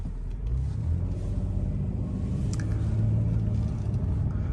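A 1998 Oldsmobile with 28,000 miles drives on a road, giving a steady low engine rumble and road noise from inside the cabin with slight rises as it accelerates.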